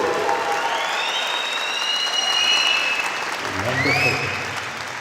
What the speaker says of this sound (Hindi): एक बार जोर से यीशु के लिए ताली हो जाए।